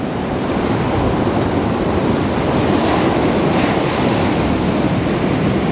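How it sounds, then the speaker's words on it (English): Ocean waves wash in steadily, a continuous broad roar of surf with slight swells in loudness and some wind noise mixed in. No one speaks. "Waves are coming in."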